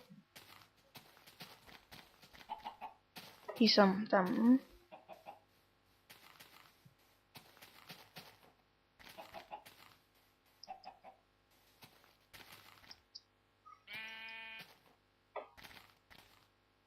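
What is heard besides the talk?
chickens clucking in Minecraft video game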